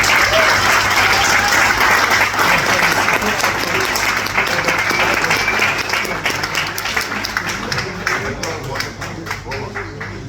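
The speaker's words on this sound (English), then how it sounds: "So if you just give a wee round of applause." A hall audience at a supporters' club achievement awards night gives sustained, dense applause, many hands clapping steadily before the sound thins and tapers toward the end.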